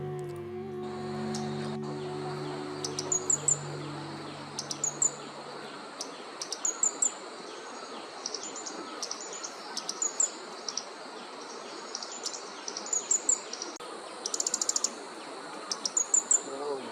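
Repeated high, quick bird chirps ring out in bursts over a constant dense hum of insects in the Eastern Himalayan forest of Neora Valley, after a brief low tone fades at the start.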